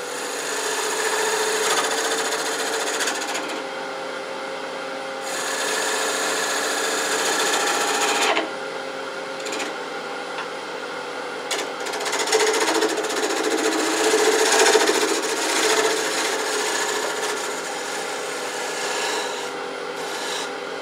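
A woodturning tool rounds over a bead on Australian mallee burl, giving a steady scraping, rasping cut that runs for about twenty seconds at close range and swells slightly near the middle, with no talk.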